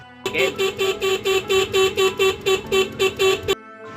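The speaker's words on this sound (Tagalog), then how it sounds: "Tunog ng van ng kanilang inarkila sa harapan ng bahay nila Carla." A van horn honks in a rapid series of about a dozen short, evenly spaced beeps in front of a house, fairly close, then stops abruptly.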